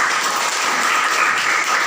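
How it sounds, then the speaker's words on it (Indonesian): A classroom of students clapping together on a teacher's cue, a loud, dense and steady wash of applause that fills the room evenly from start to finish. "Bagus, tepuk tangan."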